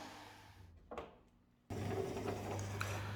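A power drill driving screws through strips into wall studs, a short motor whir, a pause, then a louder steady grinding drive as the screw bites in, close and without talk.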